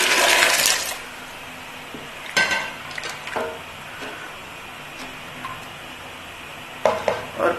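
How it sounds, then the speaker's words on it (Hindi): White chickpeas and their cooking water are poured into a prepared masala, heard as an opening rush of pouring and sizzling, then stirring and scraping clinks against a pot, close and alone. "तो इसमें ये चने और चनों का पानी डाल दूंगी।"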